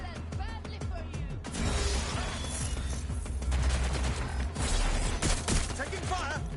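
Heavy gunfire in Watch Dogs Legion, with dense bursts of automatic shots and crashing impacts running through the whole stretch, loud and continuous, while character voices shout over the combat.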